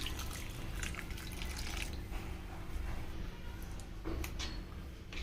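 Water poured onto cooled cooked rice to make pakhala, the Odia curd rice dish, gives a steady close trickling and splashing that runs through the whole stretch with no talk.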